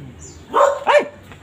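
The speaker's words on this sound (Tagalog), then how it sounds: "Itong aso pa talaga ha." Dog barking close and loud: two quick barks in a row, the second a little stronger, over a quiet background.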